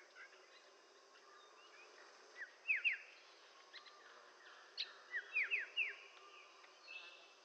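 An Andaman Islands endemic starling gives short, high chirps and whistled calls in two brief clusters. The calls are faint and somewhat distant over a quiet hiss of outdoor background, with no voices.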